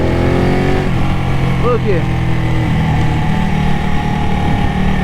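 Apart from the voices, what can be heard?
Ducati Panigale 1199 S motorcycle engine downshifting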